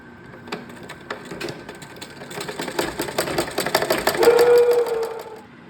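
A sewing machine runs a single stitch along a pillowcase seam. Needle taps start slow and sparse, then speed up into a steady, close mechanical whir before easing off.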